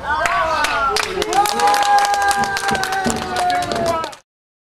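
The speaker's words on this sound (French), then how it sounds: "On applaudit, hein." An audience claps in applause at a charity event for a container shipment to Burundi, dense rapid clapping sustained for about four seconds before cutting off abruptly.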